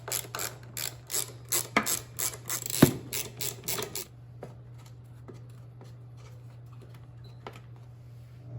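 Bolts being backed out of a Troy-Bilt TB110 push lawn mower with a ratchet, a run of quick close clicking bursts for about four seconds, then quiet with a few scattered faint ticks and a steady low hum beneath.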